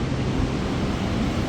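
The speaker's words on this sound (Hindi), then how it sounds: "कितने नीचे से अभी भागीरथी नदी आ रही है।" The Bhagirathi river rushes far below a wooden bridge on a Himalayan trail during the rainy season, giving a steady, broad roar of flowing water with no talk over it.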